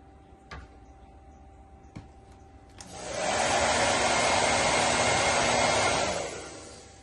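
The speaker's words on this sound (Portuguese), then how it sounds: "Tô tirando aquele excesso pra poder passar com o secador." A hair dryer blows steadily on fabric paint on a cotton shirt, switching on after a few faint ticks and running loud and constant for about three seconds before stopping.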